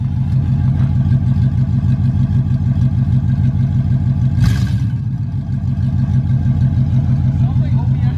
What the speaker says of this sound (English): You want me to rev it up in here?